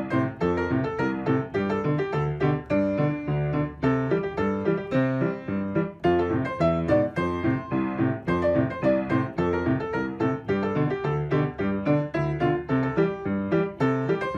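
Piano plays a steady repeating chord pattern from a song with a bass line underneath, even rhythmic pulses, clear and close with no talking.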